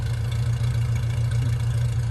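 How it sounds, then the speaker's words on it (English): A 1985 Toyota truck with a stock muffler idles in a steady, low, even rumble, close and continuous for a couple of seconds without talk. "let me turn the engine off"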